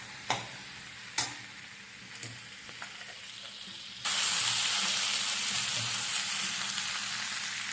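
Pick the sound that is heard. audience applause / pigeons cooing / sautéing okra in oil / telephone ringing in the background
sautéing okra in oil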